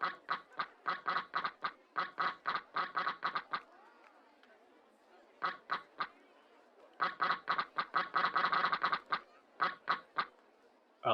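Cartoonish duck quacks from the video game RollerCoaster Tycoon come in rapid bursts, with a gap in the middle and denser clusters later, loud and clear with no talk over them.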